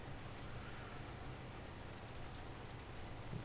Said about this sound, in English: It's been raining since, what, just before 7 AM